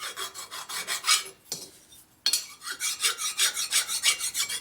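A cutting tool rasps over high spots on a Harley-Davidson 1200 Sportster XL cylinder head in quick, even scraping strokes, breaking off for a short gap before the rhythmic rasping resumes, close up and without talk.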